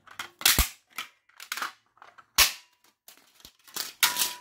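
Plastic parts of a Starlicht Soft 1×18W T8 ferromagnetic fluorescent light fitting snap and crack by hand in a series of sharp, close, irregular breaks with short pauses between.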